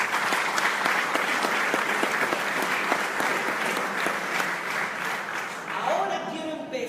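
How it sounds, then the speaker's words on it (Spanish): Sustained applause from a congregation at a church conference with a pastor, dense and steady for about six seconds before thinning out as a voice begins near the end. "Un aplauso para el Señor."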